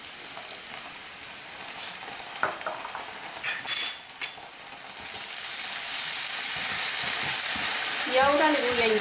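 Choricero pepper paste sizzles in a hot pan for bacalao a la vizcaína, a steady broadband hiss that starts softer with a few stirring knocks and swells into a loud, continuous fry.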